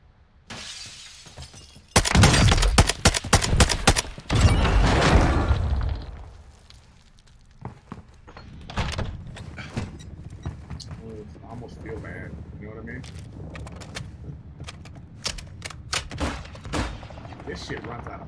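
Video game gunfire from a hotel shootout in Greensboro: loud, dense bursts of automatic shots and shattering crashes for several seconds, then scattered quieter shots and clatter with a voice talking over them.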